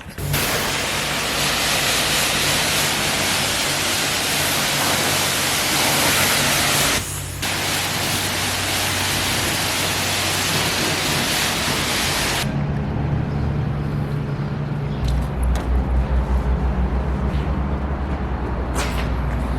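A Nissan 350Z gets a quick wash with water: a steady, loud broadband hiss of spraying water runs almost the whole time, briefly cut off once, then turns to a lower rumbling spray near the end.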